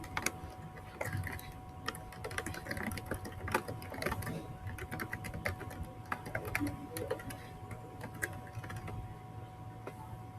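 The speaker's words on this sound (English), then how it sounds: "So here we are typing a message." Rapid, irregular clicking of keys over a low steady hum, continuing evenly throughout at close range.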